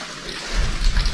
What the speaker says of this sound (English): There is a curtain of water dripping down from above.